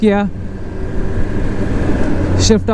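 Kawasaki ZX10R sportbike with a quick shifter revving loudly above 2500 RPM, its steady engine drone broken by a sharp upshift as the note rises again, with someone talking over the start and end.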